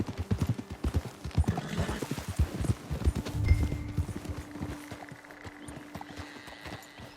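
Horse hooves clip-clopping in the video game Red Dead Redemption 2, a rapid rhythmic patter of several horses close up that slows and thins out toward the end, with a brief whinny in the middle.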